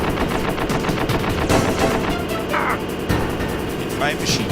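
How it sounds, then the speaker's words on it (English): Rapid machine gun fire rattles in bursts during gameplay of the video game Metal Gear Solid, loud and continuous, layered with game effects and a short electronic tone near the end. "Hit by a machine gun"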